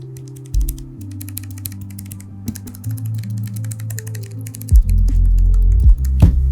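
Typing on a mechanical keyboard fitted with Cherry MX Purple switches and no keycaps, a run of close, crisp clicky keystrokes over a low hum, growing busier and louder toward the end.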